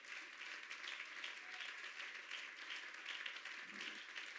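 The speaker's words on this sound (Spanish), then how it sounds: "Aplauda al Señor Jesucristo" A church congregation claps in praise during a Spanish-language sermon, a faint, steady wash of applause that holds evenly throughout, heard from a distance.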